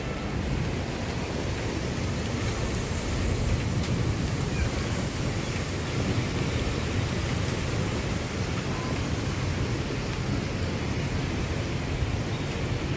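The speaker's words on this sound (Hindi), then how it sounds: "गाइस बारिश आज इतनी भयंकर हुई है" Heavy monsoon rain pours steadily outside a home, a dense unbroken hiss with deep low rumble underneath, continuous and even in loudness, with no voices.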